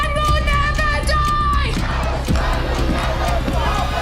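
A loud, dense crowd of protesters rallying against the bombing of Gaza keeps up sustained shouting and chanting, with cries and cheers rising over the continuous roar of voices.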